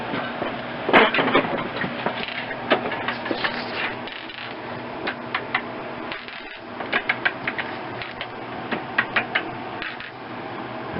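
A ratchet on a weaving loom is worked while the warp is loosened and relocked, giving a run of sharp mechanical clicks and pawl snaps in irregular bursts, close and fairly loud over a quiet room.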